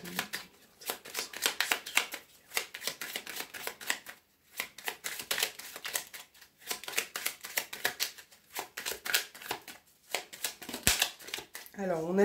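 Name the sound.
tarot cards being shuffled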